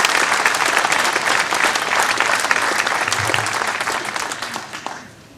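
Sustained applause from an audience at a town hall rededication ceremony honoring project helpers, a dense, steady roar of many hands clapping that holds for several seconds, then fades out quickly at the end.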